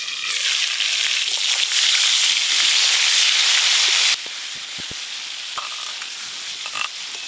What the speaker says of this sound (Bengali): আলুগুলো একদম লাল লাল করে ভেজে নিয়েছি।